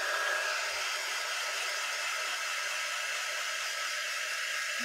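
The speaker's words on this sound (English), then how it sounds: "I'm going to give it a quick dry" A hair dryer blows steadily on freshly applied white chalk paint, a constant broad rushing whoosh held close and even for the whole stretch, with no voices.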